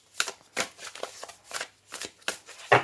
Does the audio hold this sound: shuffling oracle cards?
yes